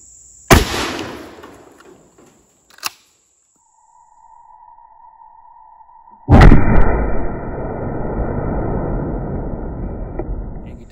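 A shotgun fires Winchester 7.5 birdshot at a coconut: one sharp, loud, close blast with a short decaying tail, a smaller pop a moment later, then a steady loud noise that takes over for the rest.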